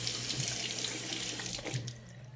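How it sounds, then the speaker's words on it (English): Running tap water pours steadily into a sink while a makeup brush is rinsed under it, a close, continuous splashing with small changes in the flow. "And you want to rinse it, wring it out until the water is clear."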